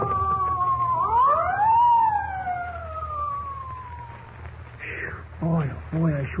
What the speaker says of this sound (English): Spike, there's a police car coming up.